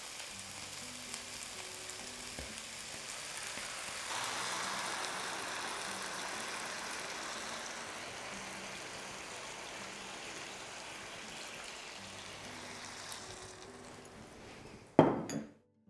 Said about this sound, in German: Das Gemüse löscht ihr jetzt mit den passierten Tomaten und mit der Brühe einfach ab.